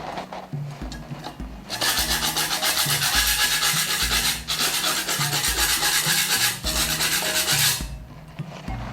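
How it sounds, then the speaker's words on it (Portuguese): A spatula scrapes dried putty off a wall being prepared for painting, harsh rasping strokes in long bursts near the surface, loud and steady with short pauses between passes, no talk. "eu passo a espátula e vem com uma lixa grossa"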